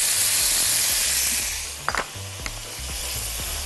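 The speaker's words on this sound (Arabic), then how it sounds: "الفراخ بتاعتي هنا اتشوحت" Chicken sizzles in a hot pan, a loud, even hiss that eases partway through, with a few clinks and scrapes of utensils.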